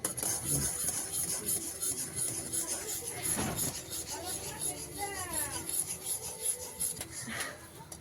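Sticky nolen gur jaggery syrup for puffed-rice moa is stirred in a pan, giving a continuous scraping, rasping rub, close and steady, while someone talks.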